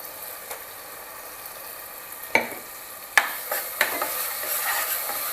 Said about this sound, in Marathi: वाटण पण चांगलं आपण परतून घ्यायचं आहे तेलामध्ये